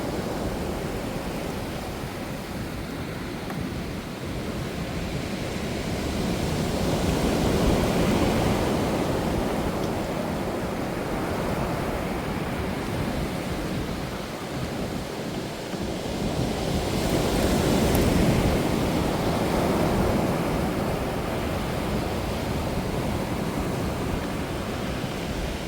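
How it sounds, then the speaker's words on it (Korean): Strong ocean waves crash and surge in front of King Munmu's tomb on the Korean coast, a loud, continuous roar of surf with wind buffeting the microphone, swelling and easing in long waves without any voices. "지금 문무대왕릉 앞쪽에 파도가 상당히 지금"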